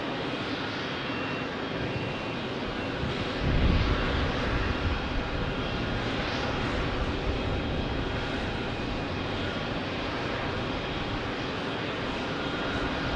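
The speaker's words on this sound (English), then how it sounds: "good to see this E-175 from Envoy landing" Envoy Embraer E-175 regional airliner landing at Phoenix Sky Harbor, a steady broadband engine roar with a swell of low rumble near the start, held loud and continuous throughout without talk.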